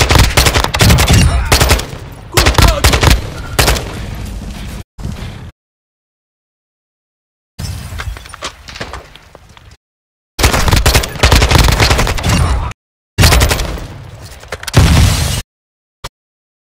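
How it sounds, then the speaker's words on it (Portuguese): Bursts of automatic gunfire in Warzone 2.0 crack at the player in loud, close volleys, broken by abrupt silences and a few short single shots near the end. "Estão atirando em mim."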